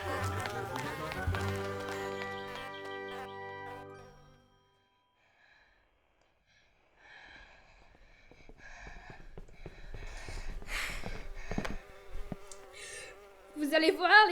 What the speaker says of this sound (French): Vous allez voir, les petites abeilles.